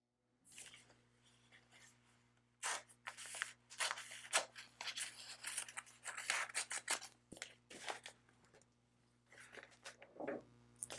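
A Cricut Maker cutting machine cuts a leather earring layer, with an irregular run of close, scratchy rasping and scraping strokes that stop and start over a low steady machine hum.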